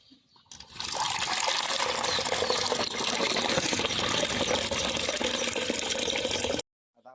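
Water is poured into drinking containers for young chicks as one steady, gushing stream that lasts about six seconds, close by, then stops abruptly.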